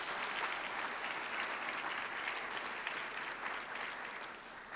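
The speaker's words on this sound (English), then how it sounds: "If we can give them another round of applause." A scholarship luncheon audience claps for the hosts and the college foundation board of directors, a dense, even round of applause that holds steady from start to finish with no voices over it.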